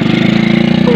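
Motorcycle engine running close and loud, a fast, even idling putter with a steady pulsing rhythm throughout the short burst.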